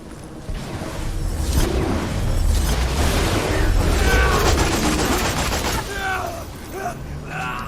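Grenade blast and gunfire in Borderlands 2, a rolling boom with whooshes and rapid shots building and fading, mixed under game voices and effects.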